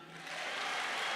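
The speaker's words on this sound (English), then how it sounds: "Clap for me." Applause rises from a church conference audience as a brief wash of clapping that swells slightly louder, steady and broad with no voices over it.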